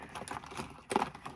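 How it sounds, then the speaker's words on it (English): Lipstick tubes clack and rattle against each other as they are shuffled through by hand, a brief run of close, light plastic taps. "randomly shuffling through the lipsticks."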